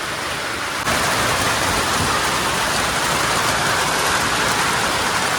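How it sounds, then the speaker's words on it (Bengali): Heavy, dense rain pours down steadily and loudly, a continuous hiss that swells slightly after the first second and holds throughout with no voices. "বৃষ্টি নেমেছে।"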